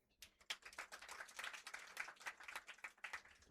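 An audience at a Delhi open mic ghazal evening breaks into sustained applause, dense overlapping clapping that starts abruptly and carries on steadily without a pause.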